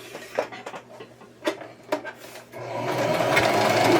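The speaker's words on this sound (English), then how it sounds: "we're going to be sewing 1/4 inch. Okay, a 1/4 inch seam." A sewing machine stitches a quarter-inch seam on a small Christmas tree quilt block potholder, with a few light clicks and thumps at first, then a steady close whirring run of the needle.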